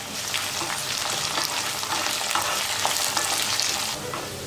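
Onions and curry leaves sauté in hot oil in a pan for a garlic curry, giving a steady, loud, dense sizzle that runs unbroken for several seconds before easing slightly at the end.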